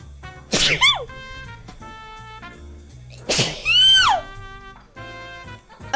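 Two loud, close sneezes about three seconds apart, each trailing into a squeaky voiced tail, over faint background music.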